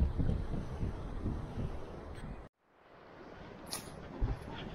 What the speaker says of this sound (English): A bit less wind down here, so you should be able to hear me.